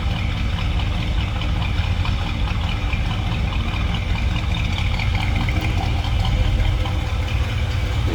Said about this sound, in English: Nothing over the top, but nice sounding car.